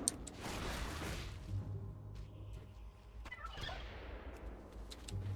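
Turkeys gobble repeatedly in the World of Warcraft video game during the Pilgrim's Bounty event, several bursts at moderate loudness over a steady background game sound bed.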